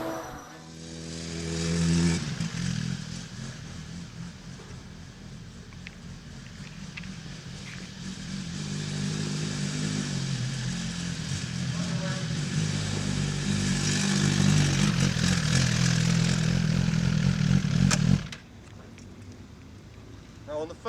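A 2017 Suzuki GSX-R1000R sport bike engine pulls away and builds into a sustained, rising drone under steady wind noise, then cuts off suddenly near the end.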